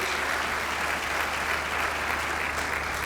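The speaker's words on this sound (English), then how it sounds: "Please clap for His Excellency." An audience at a degree presentation ceremony applauds in a dense, continuous wash of clapping that holds steady and even throughout, with no talk over it.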